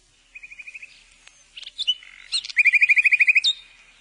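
A nightingale sings nearby, mixing soft repeated piping notes, short chirps and whistles, then a loud rapid run of rhythmic notes, alone without voices.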